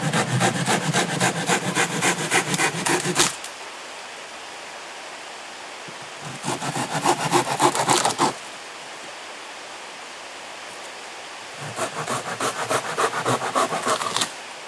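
A Bahco saw cutting firewood outdoors in the field, three bursts of steady rhythmic back-and-forth rasping strokes separated by quiet pauses with faint background hiss, close and without talk.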